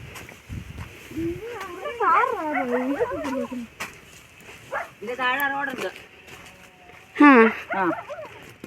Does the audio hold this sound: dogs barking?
yes